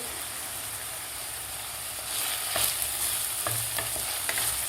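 Tomatoes and peas sautéing in a pan, with a soft continuous sizzle and scraping, clattering stirring strokes that grow louder partway through, all close and without speech.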